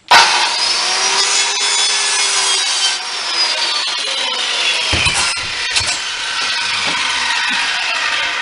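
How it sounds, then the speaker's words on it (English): A handsaw rasps steadily through five old lath boards clamped together in a vise, a loud, close, continuous back-and-forth cutting sound lasting several seconds. "We just clamped them in a vise and we'll cut all five of them off at one time"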